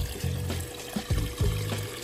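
Water spraying from an adjustable spray bar into a 12-gallon X-Treme bait tank, a soft steady splashing and trickling with a few brief gurgles, close and fairly quiet with no talking.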